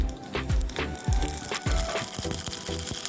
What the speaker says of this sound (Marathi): मोहरी छान तडतडली म्हणजे